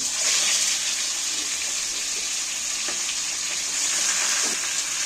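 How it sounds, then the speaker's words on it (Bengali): Chicken meat added to hot oil with bay leaves and whole cumin sizzles steadily, a continuous bright hiss with occasional soft stirring scrapes, close and loud with no talk. "এইবার আমি মাংসটা তুলে দিচ্ছি এর মধ্যে"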